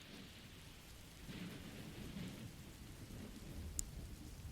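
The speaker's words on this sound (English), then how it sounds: "Can you hear the rain?" Steady rain falls outdoors as a soft, quiet wash with low rumbles underneath, faint and distant, and one tiny bright tick near the end; no voices.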